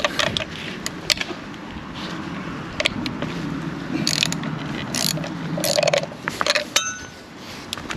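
A clamp being cranked down on a part from a rebuilt Mini, giving loud, close ratchet clicks in uneven bursts with metallic clinks between strokes and no speech.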